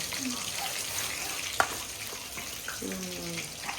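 An egg fries in a pan with a steady, hissing sizzle throughout, broken once by a sharp tap, while a voice briefly murmurs in the background.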